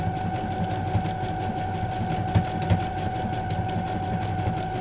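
Sewing machine stitching steadily at close range, a continuous motor hum with fast rhythmic needle chatter and a few slightly louder knocks, no voices present.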